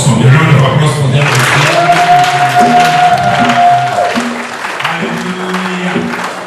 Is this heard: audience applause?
yes